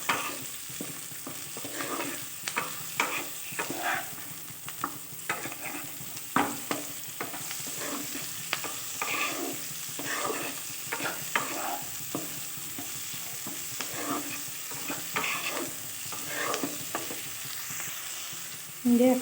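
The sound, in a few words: stir-frying chopped capsicum and vegetables in a pan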